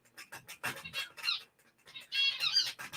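Chickens and other fowl calling outdoors, clucking in short repeated bursts at close to moderate distance, alone and fairly loud, with a brief lull midway.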